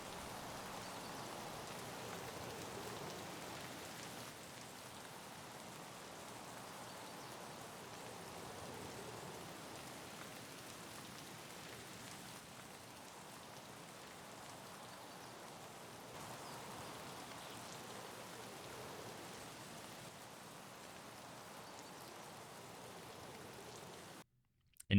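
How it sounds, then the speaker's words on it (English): Steady rain falling outdoors in the video game Escape from Tarkov, a continuous soft hiss of drops with no break until an abrupt cut at the very end. "let's compare how the rain sounds outdoors."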